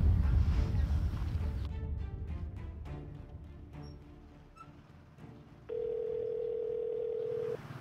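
A phone call being placed: a steady, unbroken telephone tone rings out clearly for about two seconds near the end, following a stretch of quieter indoor background with no talking.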